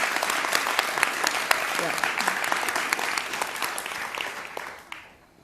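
Audience applause at a live onstage conversation event in Los Angeles, a dense sustained clapping that swells under a brief spoken word, then fades out near the end.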